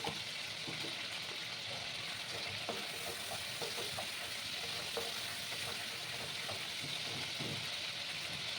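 Dry red chili and whole cumin seeds fry in hot mustard oil, giving a soft, steady sizzle with small crackles and pops scattered throughout at a low, even level.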